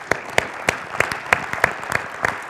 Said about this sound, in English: A round of applause to this conference.